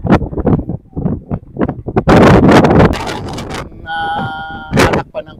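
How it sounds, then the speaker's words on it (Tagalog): Strong wind buffets the microphone on the Mayon Volcano skyline road, roaring loudly for a couple of seconds between stretches of talk, followed by a brief ringing tone. "sobrang lakas talaga ng hangin"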